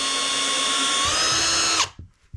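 A large power drill bores screw holes for a magnetic door stop, its loud, steady, high whine running close and alone for nearly two seconds before cutting off abruptly.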